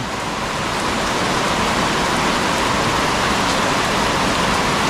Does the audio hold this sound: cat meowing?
no